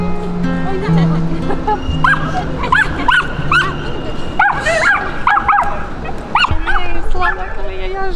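A small dog in Zagreb barks with quick yips and whimpers, several high sharp calls spread across the clip while people talk nearby.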